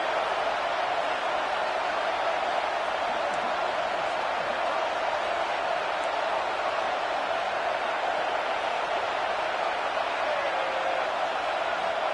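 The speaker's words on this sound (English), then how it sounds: "And here comes the noise. This crowd is trying to inspire this defense to make a big red zone stop." Steady roar of a college football stadium crowd during a red zone defensive stand, a dense continuous wash of cheering and noise with no distinct voices standing out, loud and sustained throughout.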